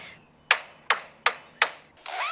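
An Australian lyrebird mimics a hammer with four sharp, ringing knocks at an even pace, each fading quickly, followed by a brighter warbling call at the end.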